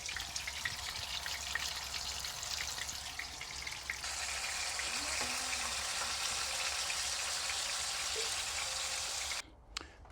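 Sliced minced chicken for shawarma sears in a hot pan with a steady, close crackling sizzle that holds throughout and cuts off abruptly near the end.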